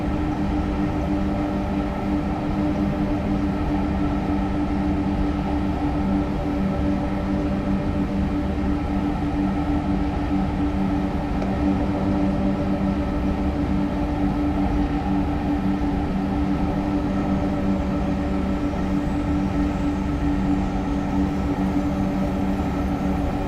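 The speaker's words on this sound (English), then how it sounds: "Here comes the other TGV." A TGV high-speed train in Train Simulator Classic approaches with a loud, steady mechanical drone and hum that holds evenly throughout, with no voices.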